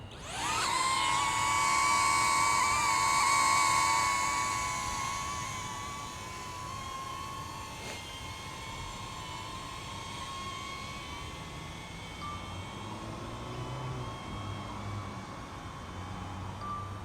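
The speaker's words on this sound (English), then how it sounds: "Oh, let's do dolly zoom." A DJI Neo 2 drone flies a dolly zoom move, giving a high whining propeller buzz that is loudest early on and then eases back to a steadier, fainter hum as it moves away.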